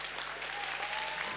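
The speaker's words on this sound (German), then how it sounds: "Klatschen" A live stage-show audience claps together in a steady, even burst of applause, moderately quiet and without pauses, with no one speaking over it.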